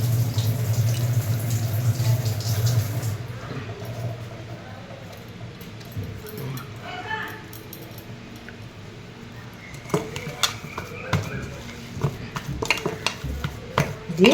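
Water is added to a pan and stuck food is stirred and scraped loose. A metal utensil clinks and scrapes against the pan close by, in irregular strokes, with some splashing and faint talk in the background.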